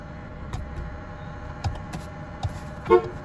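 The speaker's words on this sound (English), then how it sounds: "There's the horn" A short horn toot from a 1996 Chevrolet S10 pickup near the end, following a few faint clicks and thumps over a quiet interior hum.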